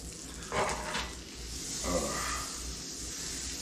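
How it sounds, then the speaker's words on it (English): A cannabis cooking mixture sizzles and bubbles in a pan as its water cooks off, a steady close hiss with a few louder crackling bursts, and no talk over it. "Hear that sizzle."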